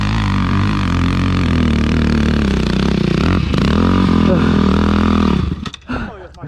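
A motorcycle engine is revved hard at full throttle, a loud, near, steady roar rising in pitch for about five seconds before dropping off abruptly, followed by clattering mechanical sounds as it cuts out.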